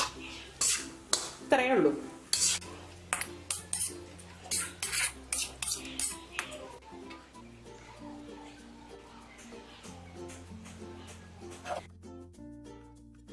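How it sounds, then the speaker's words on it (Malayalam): Chicken fried rice being tossed with chopped spring onion, spoon and pan clinking in quick scraping bursts close by, with a brief spoken remark near the end. "ഇനി നമ്മൾ ഈ ചെറുതായിട്ട് അരിഞ്ഞു വെച്ചിരിക്കുന്ന സ്പ്രിംഗ് ഓണിയൻ ഇതിലേക്ക് ഇട്ടിട്ട് ഒന്ന് മിക്സ് ചെയ്ത് കൊടുക്കും."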